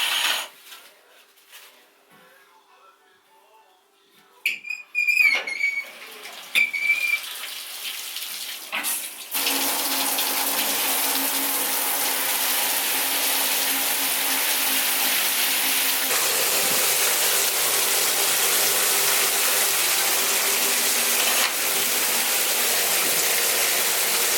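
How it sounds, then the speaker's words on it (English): A shower runs from the tub faucet into a bathtub; after some faint knocks and a brief squeaky handle turn, the water rushes on loudly and steadily, a broad hiss filling the room. "I'm gonna run the shower like we would if he was taking a shower"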